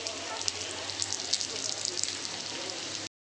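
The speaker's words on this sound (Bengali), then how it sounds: "আর এদিকে কড়াইতে আমি তেল বসিয়ে ছোট টুকরো টুকরো করা আলুগুলোকে ভেজে নিচ্ছি" Small potato pieces frying in oil in a wok, a steady crackling sizzle with scattered pops at moderate volume, then cutting off abruptly.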